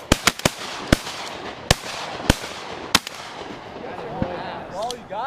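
Shotguns fire during opening-day duck hunting in Wisconsin, several sharp loud reports in quick succession followed by a few more spaced shots, some nearer and some farther, over outdoor ambience with faint calls.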